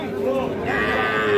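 A Gir-breed bull calf moos at a cattle market in Parbatipur, Dinajpur, a loud, close, drawn-out low call that rises and fills the whole moment, with faint crowd noise around it.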